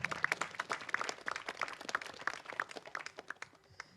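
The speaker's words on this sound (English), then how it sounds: "So can we give our beautiful parents a round of applause?" Wedding ceremony guests clapping with scattered, uneven hand claps, moderately close, without talk.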